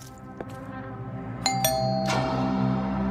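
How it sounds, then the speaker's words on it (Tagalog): A house doorbell chiming a few clear bright tones over a low background hum, near and moderately loud, with the last tone ringing out into a hissy room. "Pinagbuksan ng katulong sina Beauty at Val matapos silang mag-doorbell."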